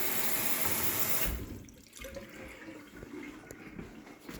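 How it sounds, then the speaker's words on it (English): Water gushes loudly from a kitchen tap in an empty, dirty rental house, then stops abruptly after about a second, leaving faint room noise. "Water is on."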